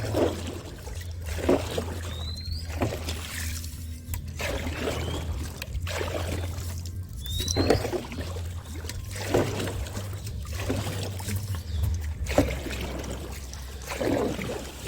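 Strokes of a paddle from a homemade rowing boat on a canal, close by, slosh and trickle in a loose repeating rhythm over a constant low drone, with occasional bird chirps in the distance.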